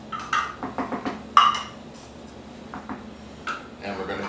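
Two 6.5-ounce cans of clams tipped into a pot of New England clam chowder, giving a few brief metallic clinks and clatters of can against pot, fairly close, with a quieter stretch in between and faint background noise.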